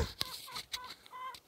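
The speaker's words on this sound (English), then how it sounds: "I can't win with these chickens." Chickens clucking in a warehouse, several short bursts of clucks and squawks in quick, uneven succession, fairly close and at moderate level with no talk.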